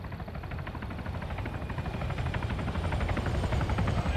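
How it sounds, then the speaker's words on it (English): Helicopter in ARMA 3 flying in and passing overhead, a pulsing rotor chop over a low engine rumble that grows steadily louder as it nears, with no voices over it. "Sounds like a helo."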